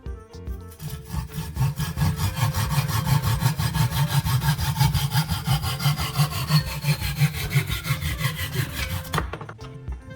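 Steady back-and-forth hand sawing through a wooden stick clamped in a vise, rapid regular strokes, close and loud, continuing for most of the clip before stopping.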